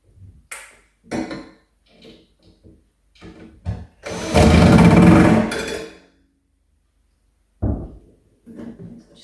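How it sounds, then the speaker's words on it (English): A power driver sinks self-tapping screws into a piece of upcycled furniture, a sustained loud whir of about two seconds amid scattered knocks and handling clatter, close and otherwise quiet. "self-tapping means that the screws will basically drill themselves into place"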